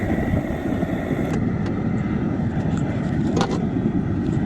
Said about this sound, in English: leave the jet burner on for 5 more minutes and let it cook.